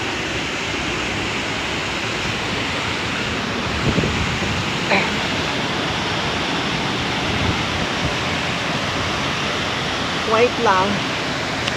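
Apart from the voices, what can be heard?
Hidden Waterfalls, Luisiana Laguna waterfall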